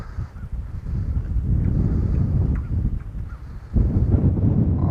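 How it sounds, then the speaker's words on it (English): Strong wind buffets the microphone outdoors while ice fishing from a boat, heavy low rumbling gusts that rise and fall and surge hard near the end. "I wish that wind wasn't blowing so hard."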